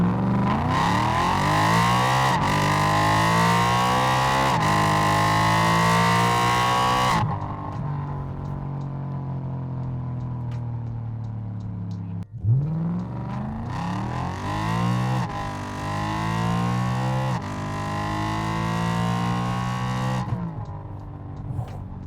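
A BMW E92 M3 engine on a stock tune revving up to about 7,000 rpm, loud and close, with two long rising revs separated by a settled idle.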